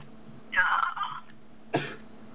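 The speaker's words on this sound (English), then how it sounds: "the coughing man coughed" A man coughs twice nearby, a rough drawn-out cough followed after a pause by a shorter one, over a faint steady background hum.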